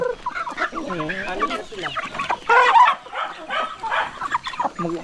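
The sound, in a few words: chickens being fed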